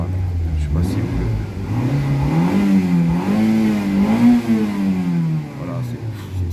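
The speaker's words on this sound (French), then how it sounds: "Voilà, le moteur." A Toyota Corolla GTi-16 AE92 engine revs up and down in smooth swells, loud and close, while someone talks over it.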